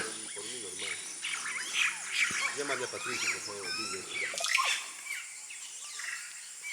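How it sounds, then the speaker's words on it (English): Humid Peruvian jungle at a lodge in a national park, with many birds and insects calling together in a dense, steady chorus: layered chirps, trills and whistles near and far, with no one talking. "You can hear the sounds of the jungle in the background."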